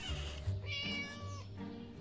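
A cat meows in a video game, a drawn-out, slightly wavering mew followed by a second shorter cry, clear and alone against a low steady hum.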